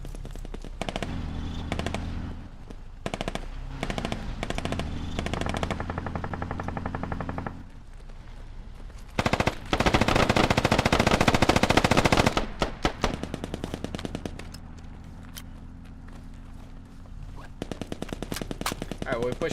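Bursts of close automatic gunfire from a CQB weapon in the tactical shooter Squad, rapid rattling volleys with short gaps and a dense sustained stretch in the middle, plus scattered single shots.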